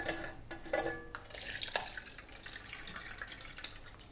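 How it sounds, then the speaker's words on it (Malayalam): Water poured into a lemon and strawberry juice, with a splashing, trickling pour near the start that gives way to a few light clinks and drips against a quiet kitchen background. "കുറച്ച് വെള്ളം ചേർക്കാം"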